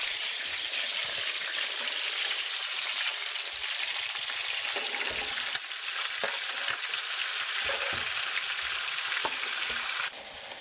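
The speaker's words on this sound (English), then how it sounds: "I'm going to add all of the onion and green pepper, and we're going to stir that in as best we can and let this cook for about 5 minutes" Chopped onion and green pepper fry in a pot with a steady, loud sizzle that holds evenly throughout, broken by a few faint stirring clicks and scrapes.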